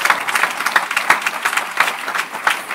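Church congregation applauding during a lively worship service, a dense run of clapping with sharp individual claps standing out, steady and fairly close, with no talk over it.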